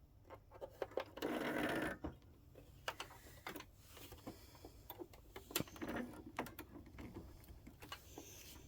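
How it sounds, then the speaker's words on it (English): A sewing machine runs a lengthened top stitch on a handmade Yeti water bottle holder, giving one brief, fairly loud burst of stitching amid quiet ticks and handling clicks. "let's head to the sewing machine and get that done"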